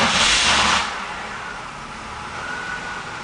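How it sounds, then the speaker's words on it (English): A 1995 Pontiac with a slightly weak battery cranks and fires up, a brief hissy starter burst followed by the engine settling into a steady close idle, with no talking. "And the car starts."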